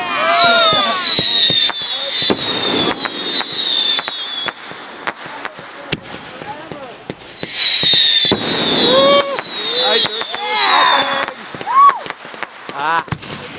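Fireworks burst at a 4th of July show, a steady barrage of sharp booms and crackling pops with whistling trails, loud and close, while excited voices shout over them.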